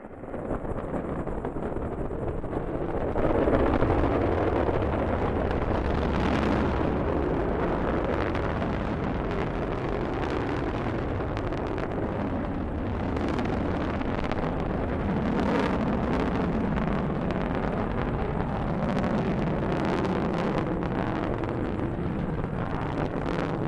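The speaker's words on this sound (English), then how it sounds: "liftoff of the Delta rocket carrying GLAST, a gamma-ray telescope" A Delta rocket carrying the GLAST gamma-ray telescope lifts off, a loud, continuous roar and rumble with wind buffeting that holds steady throughout with crackling surges.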